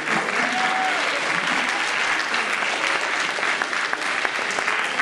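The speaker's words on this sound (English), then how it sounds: "You really do want to clap" Students at a middle school promotion ceremony applaud in a steady, full crowd clapping that stays even and loud throughout, without a break.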